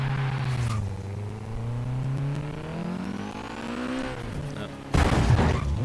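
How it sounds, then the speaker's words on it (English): A Nissan Silvia's turbocharged SR20 four-cylinder revs in Forza Horizon 3, the engine note climbing steadily and held close. A sharp burst of louder noise cuts in near the end. "Here the SR20. This engine's got purring under the hood."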